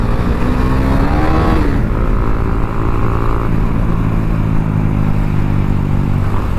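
A 390 motorcycle revs and accelerates while riding with a group, a loud, close engine note sweeping up, then settling into a steady drone with other traffic around.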